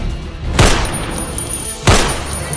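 Two sharp bursts from a toy gun, about a second apart, each a loud noisy blast over a steady background hum.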